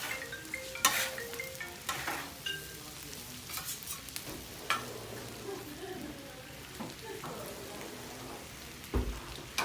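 Chorizo sausage fries in oil on a flat cooking tray, a busy crackling sizzle broken by clattering taps and scrapes of a utensil, close and moderately loud.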